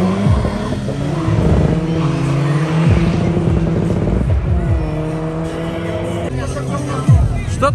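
Diesel Seat Ibiza and turbocharged petrol Toyota Yaris at a drag racing event, engines loud and continuous with rising and falling revs and gear shifts, close by, with a commentator talking over them.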